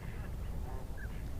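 Snow geese calling faintly in the distance over steady low background rumble, a couple of brief nasal honks standing out.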